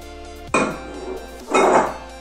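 A Tupperware Premium Glass container holding millet porridge is opened after microwaving, giving two sharp clattering knocks of glass and lid about a second apart, close and fairly loud, with no voices.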